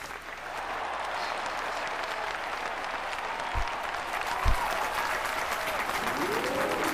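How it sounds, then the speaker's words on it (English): Studio audience applauds steadily for a co-host being brought out on a comedy show stage, a dense continuous wash of clapping with a couple of low thumps near the end. "Give him a round of applause,"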